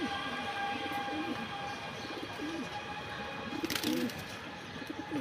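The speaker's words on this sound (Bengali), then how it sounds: "খুবই দেখার মতো কবুতর" Silver Bagha pigeons kept in a pen coo in repeated low rolling calls, close and fairly soft, with a short burst of rustling or clatter near the end.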